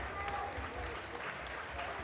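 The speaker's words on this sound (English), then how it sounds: "he gets a nice round of applause from Tyne Bridge stand" Crowd at a pre-season friendly between Gateshead FC and Newcastle United applauding from the Tyne Bridge stand, a steady, fairly faint wash of clapping heard from a distance under commentary.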